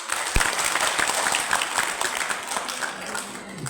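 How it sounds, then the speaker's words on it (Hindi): Dense, continuous clapping from a seated audience at a motivational talk, loud and even throughout, with a single sharper clap near the start and the sound tapering slightly toward the end. "वो 2 बार ताली हो जाएगा।"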